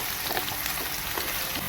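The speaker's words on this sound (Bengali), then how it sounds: "আমি রসুনটা একটু ভেজে নেবো" Garlic frying in a pan for a sweet garlic pickle, a steady close sizzle with faint crackles and no voices.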